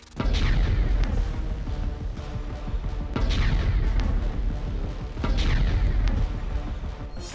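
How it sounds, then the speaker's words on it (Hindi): Deep booming explosions at a drone factory roll out in about three heavy bursts, each followed by rumbling debris and crackle, fairly loud and sustained. "ज़ेलेंस्की की ड्रोन फैक्ट्री में धमाके हो रहे हैं"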